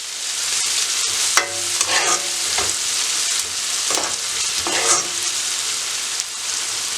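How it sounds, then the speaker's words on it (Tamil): Onions sizzle steadily in a hot pan for a simple Sri Lankan-style marai pirattal, with a continuous close frying hiss and a few brief scrapes from stirring, no voices. "வெங்காயம் வதங்குறதுக்கு போட்டுருக்குறேன்."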